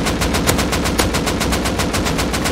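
Sustained AK rifle gunfire from the video game Rust, a loud, rapid, evenly spaced burst of shots continuing without pause for several seconds.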